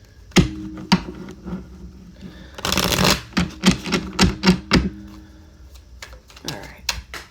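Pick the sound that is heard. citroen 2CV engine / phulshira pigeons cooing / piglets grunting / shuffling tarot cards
shuffling tarot cards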